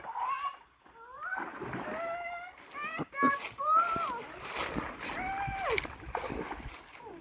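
Children splash and shout while playing in water on a hot day, their high voices and watery slaps close and busy throughout.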